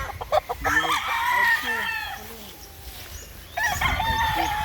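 Boston Esculino rooster at a game farm in Agusan del Sur crowing in a drawn-out call close by, with a few short clucks and a brief burst of handling noise.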